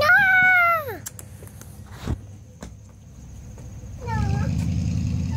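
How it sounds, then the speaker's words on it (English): A cat meows twice, a loud drawn-out call close by, then a shorter one a few seconds later, with a soft bump in between. "Look, there's the kitty."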